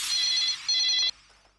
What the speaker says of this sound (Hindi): क्यों ना हम बच्चन पांडे को फोन करें?